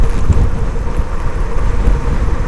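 Wind roars steadily across the microphone during a gravel bike ride on a mountain road descent, with loud, continuous buffeting gusts and no talking.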